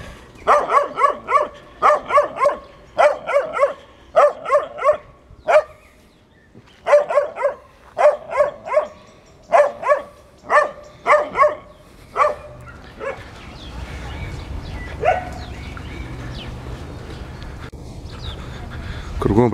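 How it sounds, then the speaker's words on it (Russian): Stray dogs barking on a town street in Kislovodsk, a long series of loud, close barks in quick bursts, then quieter street ambience with traffic noise. "Кругом бродячие собаки."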